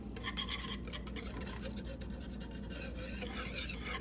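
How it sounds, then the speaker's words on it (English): A whisk working cocoa, sugar and chocolate no-bake cookie mixture in a bowl, producing a close, continuous raspy scraping with rhythmic rubbing strokes at a low level. "Let me get a whisk."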